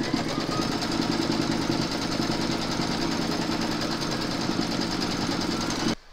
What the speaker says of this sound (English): Pop your hoop into your machine and stitch colour 2.